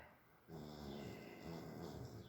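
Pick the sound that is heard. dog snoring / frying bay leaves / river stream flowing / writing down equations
dog snoring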